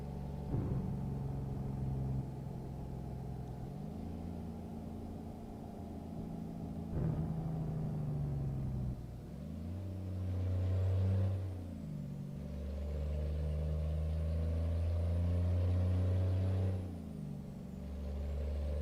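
A truck engine in American Truck Simulator droning as it pulls past a bus, with a hiss of air brakes early on, then the engine note rising and holding as it accelerates.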